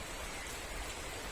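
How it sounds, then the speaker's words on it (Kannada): Gentle first rain of the year falls softly on surfaces, a faint, even patter with no talk. "ಸಮಾಧಾನವಾಗಿ ಮಳೆ ಒಂದೇ ಬರಲಿಕ್ಕೆ ಶುರುವಾಗಿದೆ"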